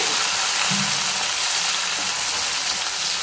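Chopped tomato sizzles in a hot pan as the kuzhambu cooks, a steady broadband frying hiss that holds close and even throughout, with a faint low stir or two and no talking.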